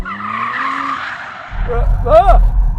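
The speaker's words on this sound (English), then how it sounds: "you can bung this thing into a corner and apply the throttle and it'll slide out on you" A four-wheel-drive car pushed hard into a corner slides with its tyres skidding: engine drone first, then a loud rush of tyre scrub and a short rising squeal near the end.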